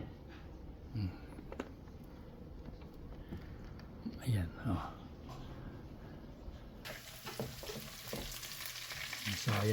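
Garlic and ginger fry in a pan for Filipino arroz caldo, giving a steady close sizzle with occasional stirring scrapes while a voice talks over it.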